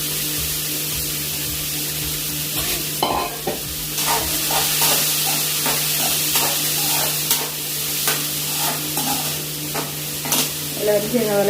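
Onions sautéing in a pan for a Kerala-style biryani, a steady close sizzle with repeated scraping and stirring strokes throughout, no talk.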